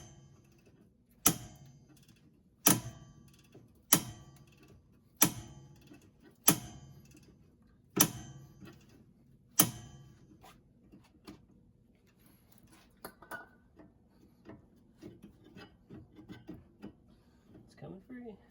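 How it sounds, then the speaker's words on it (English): A 3/8 long-handle ratchet with a 17mm socket loosens a sway bar end link on a Honda Pilot, giving seven sharp, evenly spaced clicking strokes that then thin out into fainter, irregular ticks, with quiet talk in the background. "I'm going to switch to my 3/8 long handle ratchet with a 17mm socket at the end of it, and I'm just going to keep ratcheting this until it's off"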